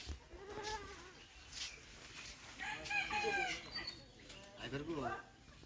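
A goat bleats several times in wavering, quavering calls among other farm animals, with rooster-like cries and faint human voices nearby, moderately close but quiet.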